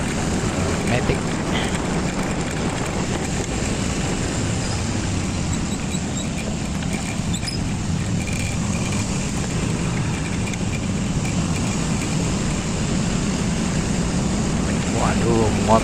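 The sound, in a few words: riding an automatic scooter behind a big motorbike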